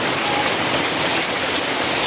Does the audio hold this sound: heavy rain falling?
yes